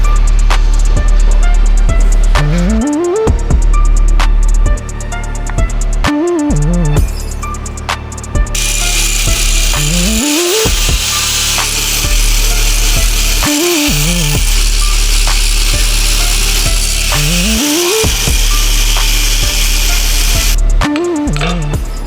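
An angle grinder cuts through a car steering tie rod end, with repeated rising and falling whines as the disc spins up and bites into the metal. Harsh rattling and scraping continue loud and close throughout.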